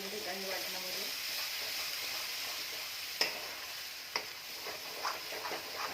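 Chole masala tomato paste sautés in oil with a soft, constant sizzle, punctuated by a few sharp utensil taps against the pan.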